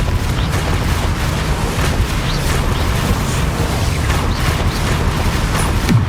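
Confringo, an explosive spell cast during combat in Hogwarts Legacy, lands amid continuous booming blasts and rumbling crackles, dense and loud, with sharp bursts scattered over a steady roar.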